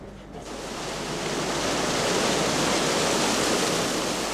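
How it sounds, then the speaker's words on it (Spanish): Water rushing to turn a water wheel at a traditional paper mill, a dense steady roar of flow that swells in the first second and then holds loud and continuous, with no talk over it. "La fuerza del líquido, regulado a voluntad, pone en movimiento una rueda hidráulica"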